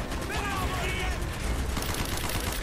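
Automatic gunfire in Call of Duty Black Ops, a steady stream of shots blending with game noise for a couple of seconds, while a voice speaks over it.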